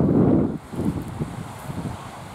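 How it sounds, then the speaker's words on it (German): Warm sea wind on the coast at Tolo buffets the microphone in low, gusty rumbles, strongest at the start and then pulsing softly, with no voices. "Laue Winde von der See her,"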